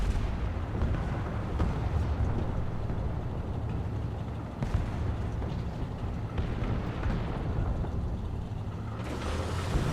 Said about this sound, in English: Drop that other arty on tank destroyer up there.